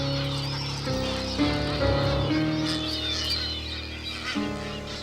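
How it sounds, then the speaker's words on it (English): Gannets calling at a breeding colony in the Galapagos Islands, a dense chorus of harsh, honking cries from many birds that overlap continuously, loud and close with no talk. "The gannets form breeding colonies here in the Galapagos Islands"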